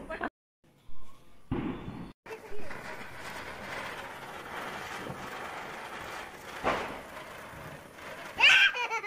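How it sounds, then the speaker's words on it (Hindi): Diwali firecrackers bursting outdoors: sharp pops and booms after a short quiet stretch, followed by a sustained crackling, hissing rumble and a final loud crack. "ईसु ना पटाखे से बहुत डर रही थी"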